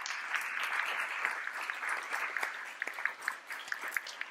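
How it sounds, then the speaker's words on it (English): A modest audience applauds at a Navy ship silver set ceremony at a governor's mansion, a soft steady patter of clapping that grows more scattered toward the end. "let's give a round of applause to the Navy"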